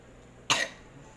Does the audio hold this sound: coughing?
yes